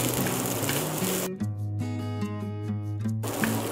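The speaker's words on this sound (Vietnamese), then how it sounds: "Mình sẽ chiên trong khoảng 1 phút nữa." Fried rice with lemongrass and minced chili sizzles and fries in a hot pan, a steady close crackle at the start and end, broken in the middle by a tonal passage.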